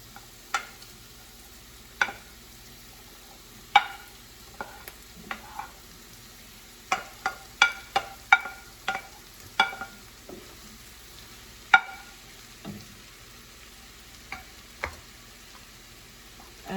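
Vegetables for a vegetable lasagna are stirred in a frying pan over a faint background sizzle, with a spoon or spatula knocking the pan in sharp, irregular clicks, sometimes clustered in quick runs.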